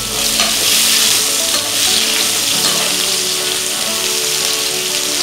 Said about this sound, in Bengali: পেঁয়াজখিনি মই 2 মিনিটমান লড়াই লড়াই ভাজি লম